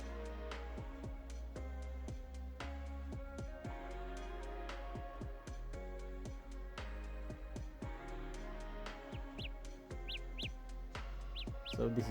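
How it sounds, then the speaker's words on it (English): Small birds chirp in short, high, repeated calls in a quiet background setting, scattered through the clip with brief pauses and a few clustered tweets near the end. "Little birds"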